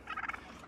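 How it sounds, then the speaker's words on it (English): Turkeys gobble in a short, moderately loud burst of quick warbling calls near a college dorm, fading into quiet within a second. "These turkeys followed me all the way to my dorm."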